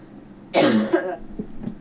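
A single harsh cough, turned away from the microphone so it sounds slightly distant, bursts out after a quiet moment and is followed by a couple of faint throaty noises.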